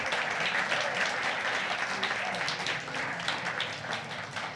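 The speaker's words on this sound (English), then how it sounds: "How about another round of applause for Gary Fish and Tony Lawrence?" Sustained audience applause at a pub talk event for two presenters, a dense, steady roar of many hands clapping close and loud throughout, easing only slightly toward the end.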